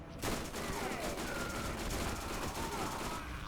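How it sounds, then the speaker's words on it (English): Gunfire in the video game Borderlands, fired against a level 56 General Nox: a dense, rapid fusillade of shots rattling continuously at moderate volume. "I'm not enjoying how fast I'm killing a level 56 General Nox with this weapon."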